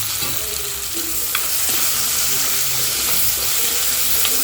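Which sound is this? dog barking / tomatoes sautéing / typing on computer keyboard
tomatoes sautéing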